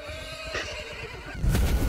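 A horse whinnies in a clear, high, wavering neigh lasting over a second, followed by a louder burst of noise near the end, with no talking.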